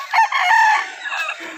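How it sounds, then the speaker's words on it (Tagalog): A rooster crows once, loud and close, a single drawn-out call that trails off, with no other noise around it. "May manok."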